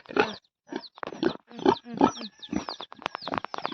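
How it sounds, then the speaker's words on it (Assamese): A Chinese-breed pig on a farm grunts close by in a rapid series of short, rhythmic snorts and oinks with brief pauses between bursts, with no talk. "আমাৰ চাইনিজ গাহৰি।"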